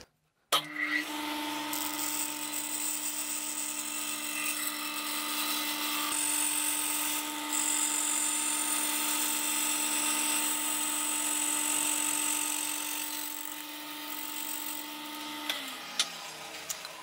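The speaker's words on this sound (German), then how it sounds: "erstmal so kurz da in die Ecke reinsägen" A power saw cuts into a corner while building a beer-crate standing table, running as a loud continuous whining buzz with tonal harmonics for about fifteen seconds before spinning down.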